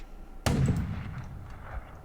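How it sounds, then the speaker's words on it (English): A single loud gunshot sound effect in an audio drama bursts out suddenly, then a reverberant rumble fades away after the crack. "a raucous gunshot erupted across the otherwise relatively organized crowd"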